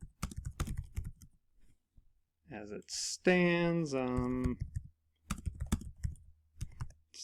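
Quick bursts of key clicks from a computer keyboard while a Kahoot quiz question is typed in, soft and close, broken up by a short musical tone and a few spoken words.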